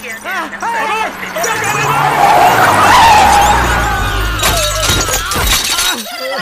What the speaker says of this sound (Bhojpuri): अरे गोधन, साइकिल टूट गई रे।